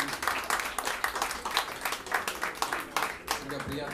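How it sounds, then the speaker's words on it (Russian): Audience applause at a live Russian-language stage event, a loud crowd of rapid overlapping claps running steadily throughout, with a voice speaking over it. "Давайте как-то поаплодируем."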